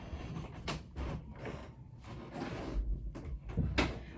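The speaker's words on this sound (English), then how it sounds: "I'm gonna close the door though because it's a little loud." A door is pulled shut indoors, with a few soft knocks and bumps against a quiet room background.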